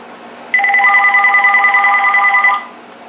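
A Uniden TRU8885-3HS cordless phone rings with an electronic ringtone, a two-second burst of rapid pulsing tones, loud and close, over a faint background hum.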